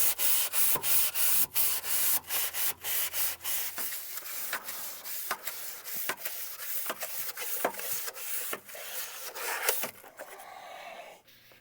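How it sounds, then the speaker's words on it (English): A long sanding block with 600 grit sandpaper and oil is rubbed over a Duramax diesel engine block deck. The strokes are loud, close and rhythmic, then fade to a quieter scuff at the end. "no coarser than a 600 grit sandpaper, a nice big long sanding block, and some oil, and we got to clean that whole surface down"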